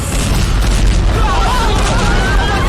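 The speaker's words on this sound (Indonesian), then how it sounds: "Mana ada anjing mobil nabrak pohon langsung meledak." An edited car explosion after a crash into a tree rumbles as a loud, sustained roaring boom that fills the whole stretch with heavy low-end noise.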